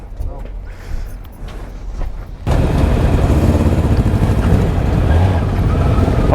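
Motorcycles ride onto a ferry in Norway, a quieter idling stretch giving way to a loud, sustained engine roar and rumble close by, with wind buffeting and a voice speaking over it.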